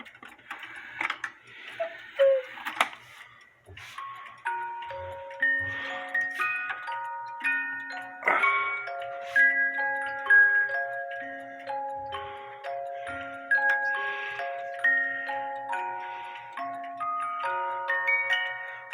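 A repaired chalet cuckoo clock with an AMS movement plays its hourly tune, a steady melody of clear music-box notes over the soft, even ticking of the movement, close and alone.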